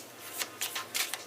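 Tarot cards shuffled in short bursts, about three quick riffling swishes with brief gaps, close and fairly quiet with no talking.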